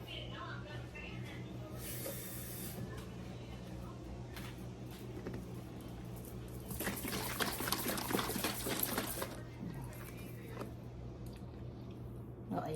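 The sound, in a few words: pouring water into pan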